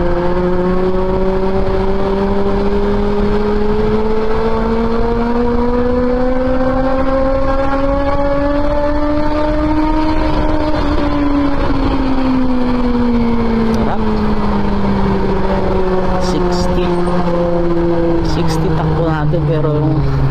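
A motorcycle engine on an adventure ride revs loudly and close, its pitch climbing steadily then falling away in one long sustained pull, with a constant roar throughout.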